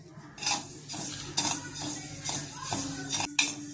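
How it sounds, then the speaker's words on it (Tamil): Parboiled rice dry-roasting in a pan on a gas stove, stirred with a metal spoon: repeated scraping and clinking strokes against the pan in an uneven rhythm, close and fairly loud. "இந்த புழுங்கரிசியை பொன் வரலாம் வறுத்துக்கணுங்க"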